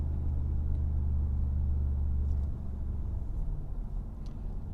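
Mercedes-AMG G63 in sport mode, its engine and exhaust giving a loud, deep steady rumble that eases to a lower drone partway through.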